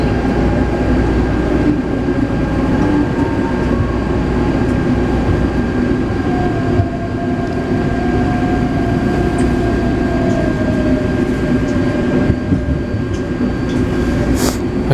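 A Taipei Metro type 381 train runs between Tamsui and Beitou. It makes a loud, steady rumble of wheels on track with a faint rising and falling motor whine throughout, and no voices are heard.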